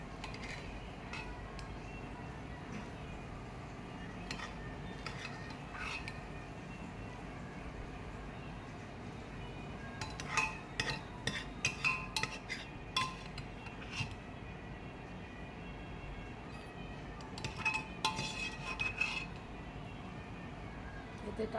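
Khichuri being served: a metal spoon clinks and scrapes against a pot and plates in short clustered bursts over a low, quiet room hum, with gaps of near stillness between.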